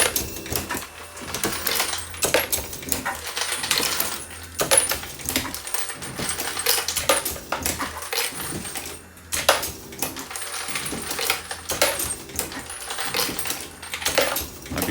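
A Dillon 1050 progressive press runs 300 Blackout brass through sizing and trimming, a continuous loud metallic clatter of cases jingling and dropping, with the repeated clunk of the press cycling.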